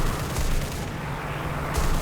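Ki-96 heavy fighter's 37mm cannon firing in War Thunder, two heavy booms about a second apart over steady engine drone, with no talk.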